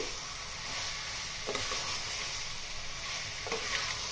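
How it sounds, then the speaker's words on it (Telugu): Raw mango chicken being stirred in a hot pan, a quiet continuous sizzle with a couple of soft spoon scrapes against the pan, close and alone without talk. "ఇలా బాగా కలుపుకుందాం అండి"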